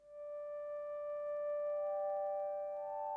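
A soft, high whirly synth layer holds a pure, sine-like tone that fades in and bends slightly upward near the end. It stays faint and smooth, with no talk.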